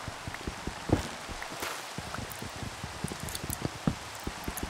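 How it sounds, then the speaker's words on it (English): Rain patters softly in a block-building video game, light scattered drops and ticks repeating irregularly at low level with no speech. "It's raining now."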